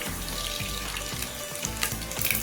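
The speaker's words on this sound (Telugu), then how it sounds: "మెంతులు కొంచెం వేసుకోవాలండి. ఆవాలు" Fenugreek and mustard seeds sizzling in hot oil for Nellore-style fish curry, a dense close hiss with scattered crackles and a faint musical tone underneath, no speech.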